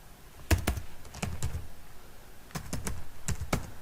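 Light key presses click on a computer keyboard in short bursts of a few taps, with a pause between them, close and crisp with no voices.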